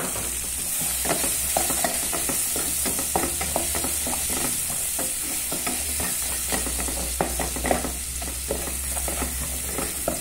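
Onion dropped into a hot pan, frying with a continuous bright sizzle and hiss under frequent scraping and stirring strokes, steady and close throughout with no voices.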